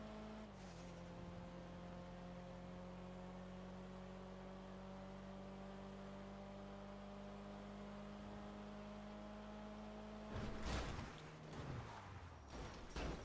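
A car in GTA Online holds a steady engine drone down a long straight, a sustained tonal whine at constant pitch, then shifts and roughens briefly near the end, with no talk.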